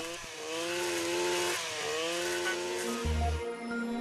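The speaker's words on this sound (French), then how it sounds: "On utilise ces couteaux aussi bien de droite à gauche que de bas en haut, comme ici avec le couteau à taillis à 3 dents." Brushcutter fitted with a three-tooth steel coppice blade cutting through dense brambles, a high revving engine whine that rises and dips in pitch as the blade bites, steady and close with no talk.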